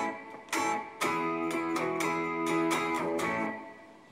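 Electric guitar through a Tank G preset with reverb and drive plays a short run of picked notes, each strummed attack ringing out with a long reverberant tail, moderately loud and alone.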